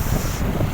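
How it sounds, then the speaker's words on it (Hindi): A mountain waterfall flows near a footbridge on the Gomukh trek, a loud broad continuous roar of rushing water mixed with wind buffeting the microphone. "ये पुल, ये झरना बह रहा है"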